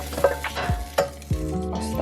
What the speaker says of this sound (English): Here's my lovely chicken sizzling.